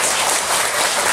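A Korean church congregation breaks into applause during a Sunday service, a dense, even wash of many hands clapping together throughout the short moment.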